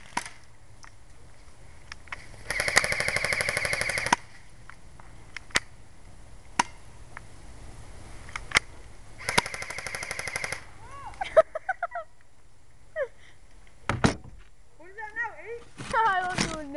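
Airsoft guns fire during an outdoor airsoft war: two sustained bursts of rapid automatic fire, each lasting a couple of seconds, plus scattered single shots and sharp clicks, with people talking and calling out between volleys.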